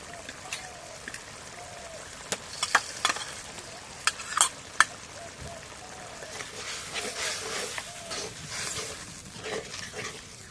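Chilli powder, garlic, cumin and garam masala paste frying in goat fat for biryani, with a crackling sizzle and a run of quick metallic stirring clacks midway, then a busier bubbling fry, close and loud, no speech.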